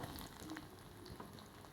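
Onions frying in hot oil for besan roti preparation give a steady, soft sizzle with faint crackles, fairly quiet and without any voices.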